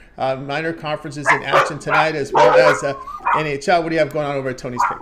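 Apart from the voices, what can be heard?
dogs barking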